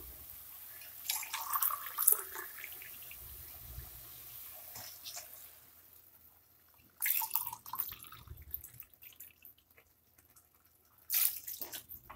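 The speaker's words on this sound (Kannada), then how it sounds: "ಈಗ ಎರಡು ಲೋಟ ನೀರು ಹಾಕ್ತೀನಿ ನಾನು." Two glasses of water poured into a cooking pot of rice on a medium flame, heard as a few soft, splashy bursts separated by quiet stretches, fairly faint and close.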